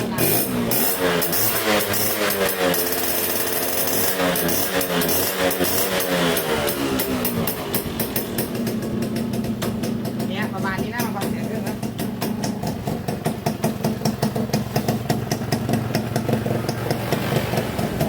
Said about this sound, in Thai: เดี๋ยวผมจะสตาร์ทให้ฟังเสียงดูว่าเครื่องเป็น ยังไง